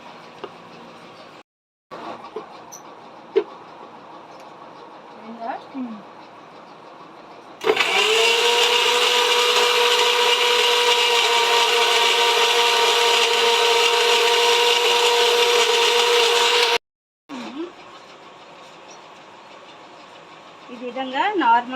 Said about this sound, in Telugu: మనం ఇప్పుడైతే మిక్సీ వేసేసుకున్నాం